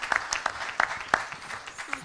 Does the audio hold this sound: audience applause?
yes